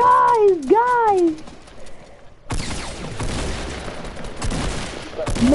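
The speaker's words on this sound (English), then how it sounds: "where are we getting shot from?" Gunfire in the video game Fortnite comes as loud, dense bursts of shots, mixed with tonal game sounds and excited player chatter over the top.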